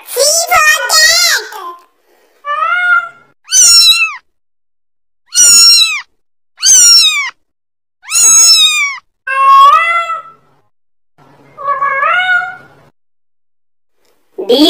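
A cat meows repeatedly, a series of distinct, clear meows close by with short pauses between them.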